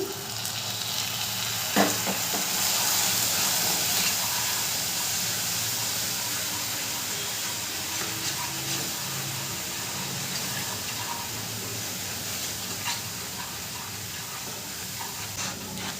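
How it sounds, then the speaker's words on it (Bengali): Water splashed into caramelizing sugar in a pan gives a loud steady hiss and sizzle, with a sharp knock near the start and occasional faint stirring scrapes, no voices. "চিনিটার একটা ক্যারামেল তৈরি করে নেব। এখানে আমি আরও অল্প একটু জল দিচ্ছি।"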